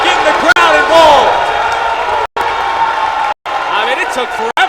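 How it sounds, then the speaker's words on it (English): Crowd cheering and whooping at a men's college basketball game between Lynchburg and Pfeiffer, a loud continuous roar of voices with brief dropouts, rising in bursts. "And Jamarcus Brown getting the crowd involved."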